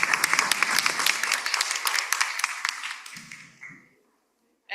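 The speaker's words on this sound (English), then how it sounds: "I would just give a big round of applause to our panelists" A round of applause for a conference panel breaks out loud and dense, many hands clapping steadily before thinning out and fading to silence near the end.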